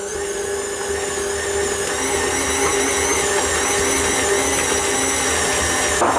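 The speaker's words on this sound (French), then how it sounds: "Je vais mélanger avec mon robot, voilà, juste quelques secondes." A food processor mixing beignet dough runs as a loud, steady motor whine with a constant high-pitched hum, continuous and close for about six seconds with no talking.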